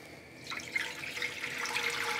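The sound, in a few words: tap water filling a soup pot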